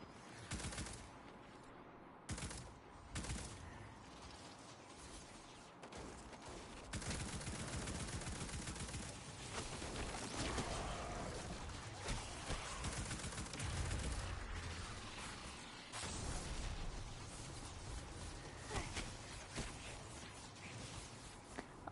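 Repeated gunfire bursts in Destiny 2, crackling volleys and automatic fire at moderate distance over a continuous battle din, with lulls and swells throughout.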